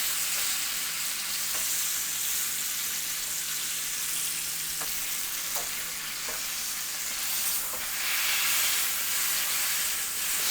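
Beef for a Beef Wellington searing on all sides in a hot pan, a continuous strong sizzle and hiss that swells louder near the end, with occasional soft clicks of turning.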